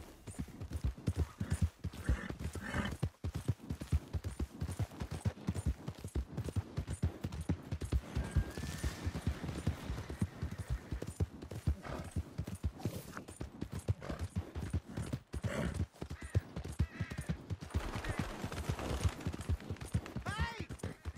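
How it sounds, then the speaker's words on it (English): A horse's hooves clip-clop in a steady run of dense, rhythmic beats close by, mixed with ambient noise and scattered louder thumps. "Hey! My horse!"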